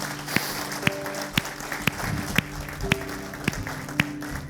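Rhythmic group clapping in time at a church service, sharp claps landing roughly every half second over a sustained tonal background and low crowd murmur.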